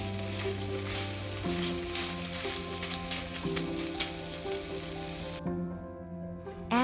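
Ground turkey fries steadily in a pan with a dense, continuous sizzle. The sound stays close and even, with faint clicks and a brief quieter stretch near the end.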